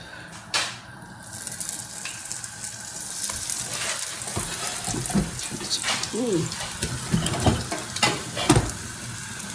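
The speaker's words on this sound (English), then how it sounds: "let's pop these into the frying pan" Apples sizzle and crackle in a hot frying pan, with stirring clatter and a brief burst of running water, close and steady.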